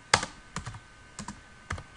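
Keys clack on a computer keyboard as a Linux chmod command is entered, a few sharp close taps spaced in small clusters against a quiet background.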